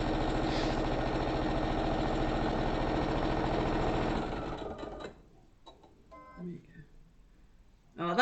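A sewing machine stitches an Easter egg holder in a steady, fast mechanical whir for about four seconds, then stops, leaving faint handling noises and a soft clunk.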